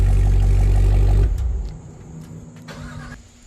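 Cadillac Escalade V with dual exhaust: a loud, close, deep engine rumble for just over a second, then it shuts off abruptly, leaving a faint low hum and small clicks.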